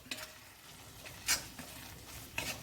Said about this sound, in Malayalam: മസാല നല്ലതായി നല്ലപോലെ മൂപ്പിച്ചെടുക്കണം